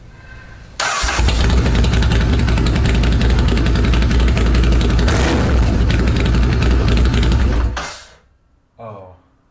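A Ducati Scrambler motorcycle fires up indoors with a loud, raw straight-pipe bark and rumbles at a heavy, steady idle before cutting off, followed by a brief voice.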